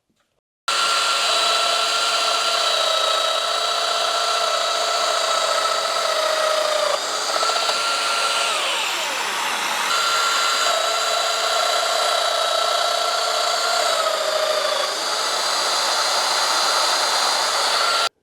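Festool Domino XL joiner plunging into wood to cut a mortise with dust extraction attached, a steady loud high-pitched motor whine that dips in pitch mid-cut and recovers, running continuously alone.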